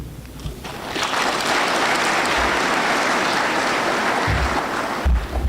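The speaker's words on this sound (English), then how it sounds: "Let's clap for him again." A university graduation ceremony audience breaks into loud, sustained applause, dense clapping swelling after a moment and holding steady before tapering off.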